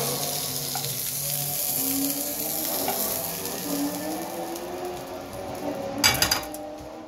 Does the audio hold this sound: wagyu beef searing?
yes